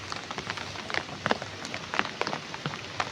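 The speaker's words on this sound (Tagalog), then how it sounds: "sobrang lakas talaga yung ulan" Heavy rain falls steadily with dense spattering drops on surfaces, a close continuous patter with scattered sharper hits and no voices.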